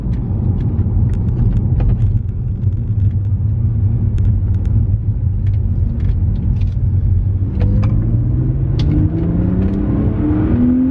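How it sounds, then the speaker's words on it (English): A BMW N52 engine fitted with a performance air filter rumbles, then revs hard as the car accelerates in second gear, the pitch climbing steadily toward the end with no one speaking. "I'll do a little pull in second gear"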